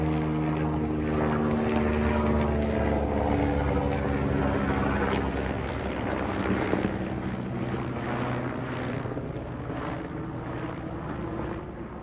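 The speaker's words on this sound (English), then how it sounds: "let's get a shot of the helicopter" A helicopter passes overhead above a sunflower garden, its rotor and engine making a loud, steady throbbing drone that holds for the whole stretch with a gradual shift in tone as it moves.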